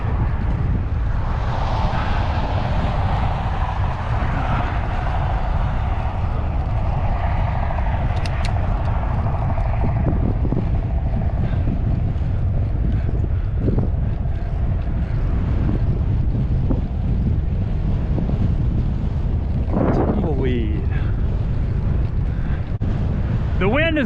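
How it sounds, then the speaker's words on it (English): Strong wind blasts a cyclist at a hilltop on a rural Texas road loop near St. Jo and Nocona, producing a loud, unbroken roar and buffeting across the microphone. "The wind is what's unrelenting."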